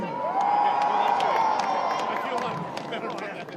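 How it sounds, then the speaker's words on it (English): Large outdoor crowd at a Groundhog Day gathering in Punxsutawney cheers and shouts, a loud sustained roar of many voices with scattered whoops and some clapping. "Woo, what a huge crowd."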